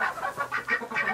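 Ducks in a farm stall give a quick run of close, nasal quacking calls in a steady pulsing rhythm, with no talk over them.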